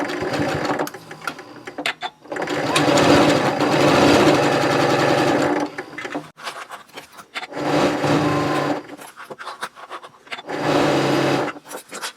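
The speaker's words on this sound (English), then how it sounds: "I'm going to sew it with a 1/2 inch seam all the way around." Sewing machine stitching a half-inch seam around a reversible shopping tote, loud rhythmic whirring runs broken by brief stops between them.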